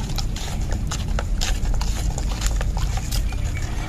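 Cow manure compost is stirred into liquid fertilizer for chili plants, giving a fairly loud, continuous sloshing with rhythmic wet splashes and knocks.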